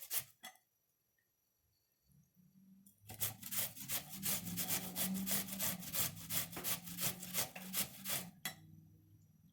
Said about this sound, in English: It's probably about half this onion I'm going to grate in there.